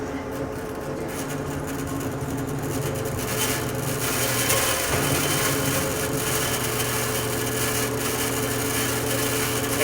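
A bandsaw cuts the nose off a wooden CO2 dragster body, giving a steady, loud, continuous whining rasp that holds for the whole stretch with a slight swell midway and no talk.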